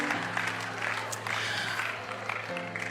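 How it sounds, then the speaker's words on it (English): Audience applause fills a church or conference hall during an inspirational talk, a steady wash of clapping lasting a few seconds with faint murmuring from the crowd. "I think that deserves another round of applause."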